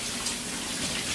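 Water runs steadily from a tap while pork spare ribs are rinsed, a brief, even splashing stream heard close.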